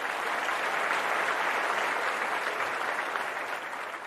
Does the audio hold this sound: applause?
yes